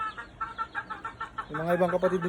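Pumpkin-coloured hen giving a run of quick, close clucks, followed by a louder, longer vocal cackle near the end.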